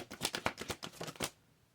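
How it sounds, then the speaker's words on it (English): Tarot cards are riffled by hand in a quick burst of about eight crisp flutters over a second or so, close and fairly loud, then stopping into quiet. "I like to shuffle again live"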